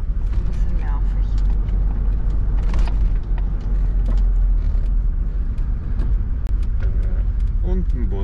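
A bus and cars rumble along a road heard from inside a camper van, a steady low traffic drone with passing engine swells, while a voice talks over the top.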